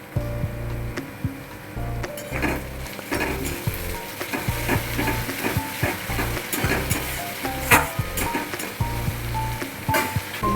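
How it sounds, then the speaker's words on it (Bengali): Chopped onions and green chilies fry steadily in a pan, a continuous close sizzle with crackling bursts and occasional stirring scrapes, no voices. "পেঁয়াজটা দিয়ে ভাজা ভাজা হবে"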